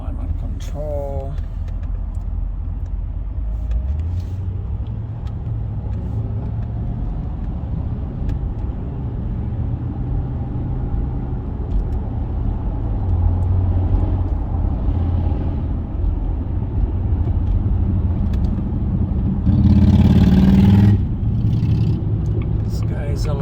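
A supercharged 4.2-liter V8 in a Jaguar XKR runs with a steady low rumble that swells as the engine revs higher for a couple of seconds near the end, close and loud, with someone talking over it.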